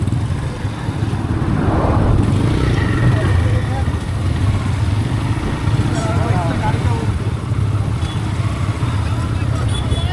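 A motorcycle engine rumbles steadily throughout, loud and close, with wind noise and a few voices mixed in.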